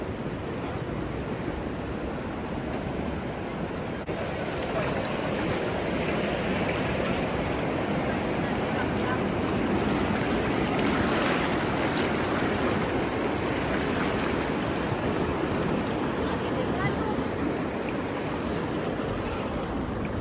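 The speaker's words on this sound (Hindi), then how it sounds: "इस पॉइंट पर नदी में बहाव काफी तेज हो जाता है" Fast-flowing current of the Dawki River in Meghalaya swirling around wooden rowing boats, a steady, loud, broadband rush of water that continues unbroken throughout, with no talk.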